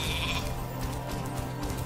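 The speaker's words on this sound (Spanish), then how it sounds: "Tostado es una oveja, Tostado es una oveja" Sheep bleating in the video game Spyro the Dragon, a steady game-audio bleat over a constant background music bed, with no speech.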